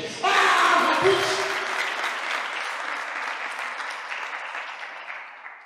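A church congregation breaks into loud, sustained hand-clapping, dense and even at first, then slowly fading over several seconds.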